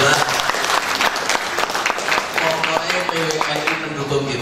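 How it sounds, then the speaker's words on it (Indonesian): Seminar audience in Temanggung applauding the speakers at a national discussion event, a steady wash of many hands clapping throughout, close and loud, with a voice speaking over part of it. "tepuk tangan buat para narasumber."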